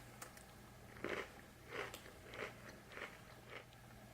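A hatch chili cookie is bitten and chewed close to the mic, giving about five soft crunchy chews at an even pace over a low steady hum, with no talk.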